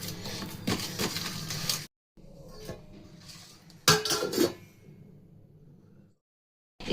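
A lid or plate set over oiled dough for aloo paratha, with clattering kitchen handling, a sharp clink of the cover landing midway, and short scraping sounds between pauses.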